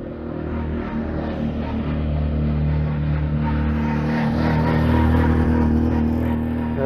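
A Mini Racing Clubman Cooper S at Castle Combe Circuit during a Mini action day, with a steady, loud engine drone and low rumble that builds slightly toward the end as the car passes.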